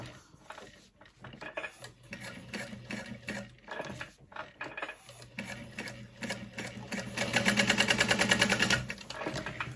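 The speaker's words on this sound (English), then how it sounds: "I'm just gonna sew a little bit longer around the outside edge" A sewing machine stitches around the outside edge of a leather wallet, its needle clattering in short starts and stops before settling into a fast, steady, close mechanical whir.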